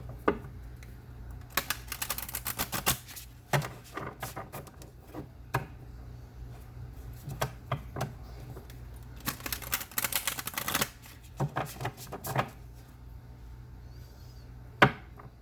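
A self-care card deck being shuffled, with repeated crisp riffling bursts of cards spaced across the stretch, close and moderately loud with quiet pauses between them.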